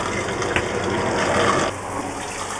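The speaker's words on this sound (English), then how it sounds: "This is what it's like inside the shower." A shower runs inside a compact Transit camper van conversion, a loud, steady hiss of spraying water close by that cuts back abruptly near the end and continues more quietly.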